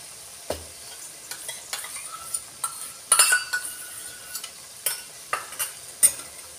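Yogurt and cream are whisked together in a bowl while cooking a restaurant-style mixed vegetable dish: irregular stirring scrapes and light clinks against the bowl, close and moderately quiet, over a faint background sizzle.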